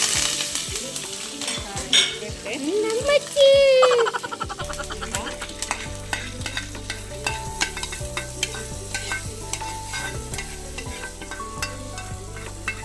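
Mustard seeds and chillies crackle and sizzle in a hot pan for tempering, a steady dense popping hiss with a brief rising squeal early on, then continuous close frying with rhythmic stirring.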